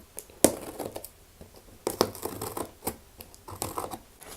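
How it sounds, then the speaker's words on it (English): Scissors cut through a cardboard yo-yo package box, giving a few sharp snips and crinkly scraping bursts, close and fairly quiet, with irregular gaps between cuts. "So I've got my handy dandy scissors."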